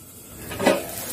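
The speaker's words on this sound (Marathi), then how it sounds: "यावरती झाकण ठेवून" A lid set onto a pan of egg keema with tomatoes cooking in oil gives a single brief metallic clink over a soft background hum.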